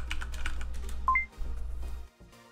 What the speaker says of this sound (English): when someone types something, you have a nice sound.